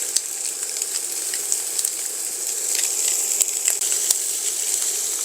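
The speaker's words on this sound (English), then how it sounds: "all the sausage are officially in the skillet" Sausages frying in a skillet give a continuous close sizzle with scattered small pops and crackles, moderately loud, with no talking.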